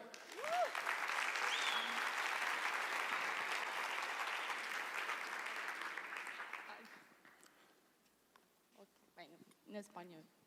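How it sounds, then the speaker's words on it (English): An audience at an innovation summit applauds a speaker, a dense, steady wash of clapping that lasts several seconds before fading out, followed by people talking quietly nearby. "Applause."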